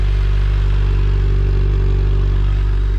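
A stock-exhaust 2022 Hayabusa runs on a cold engine, holding a steady, buzzing drone with a strong low hum and no spoken voices.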